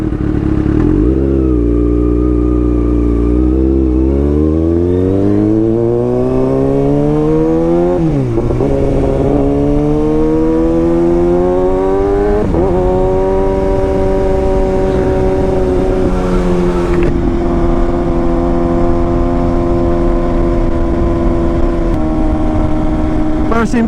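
A Kawasaki ZX6R motorcycle riding on the Marilaque road, its engine winding up through repeated rising revs with gear changes, loud and close with steady wind rush underneath.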